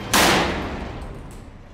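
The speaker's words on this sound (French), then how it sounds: "On va procéder au pétardement." A water-jet disruptor fires on an old German bomb, one sharp loud blast that cuts in abruptly and then trails off into a long rumbling decay, with no voices.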